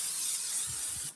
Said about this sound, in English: And you kind of spray vegetable oil.